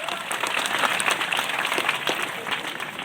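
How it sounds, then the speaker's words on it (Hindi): Village crowd at a rural gathering in Thakurtola claps loudly, a dense continuous patter of many hands sustained for several seconds without a break. "जोरदार ताली बजाए दो"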